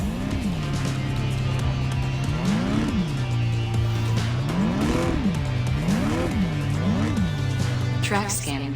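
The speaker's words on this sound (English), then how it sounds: "The cars will then go around the track, scanning the layout, learning the lay of the track" Toy race cars circle a slot-free track while scanning the layout, their small electric motors producing a continuous whine that repeatedly surges upward in pitch and falls back, steady and close throughout.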